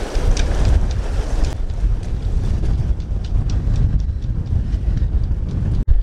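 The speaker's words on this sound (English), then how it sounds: "This wind's killing it." Strong wind buffets the microphone at a dock during a sailing trip, a loud, continuous roar with gusty swells and water sloshing beneath, and no voices.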